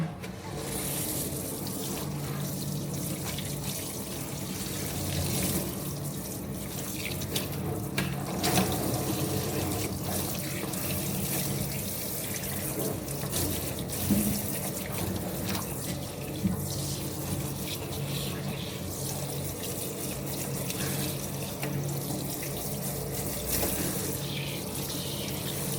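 Tap water runs steadily into a sink while a cat is rinsed during grooming, a continuous close splashing flow lasting throughout.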